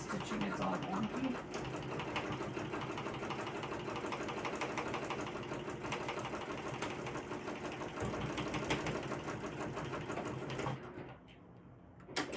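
Sewing machine running continuously over the seams of a crossbody bag, a steady, fairly quiet mechanical hum and rapid needle chatter that stops abruptly near the end.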